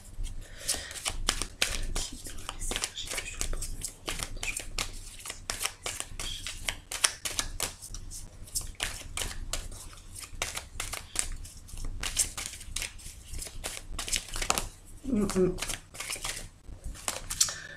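Tarot cards being shuffled and cut in a steady run of rapid, close riffling and flicking clicks that continue for many seconds, with someone speaking French at times over them.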